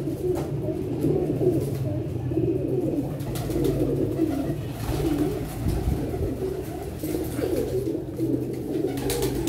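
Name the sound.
pigeons cooing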